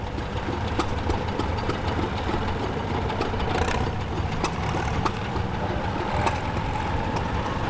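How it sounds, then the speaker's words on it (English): A 1916 Fairbanks Morse 6 horsepower hit-and-miss engine runs in a parade at a steam and gas threshing bee, giving a steady low engine rumble punctuated by sharp, regularly spaced firing pops, with no speech. "And that is pulling a 1916 Fairbanks Moore 6 horsepower hit and miss engine, owned by Taylor Oxladahl."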